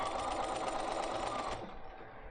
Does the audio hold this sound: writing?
no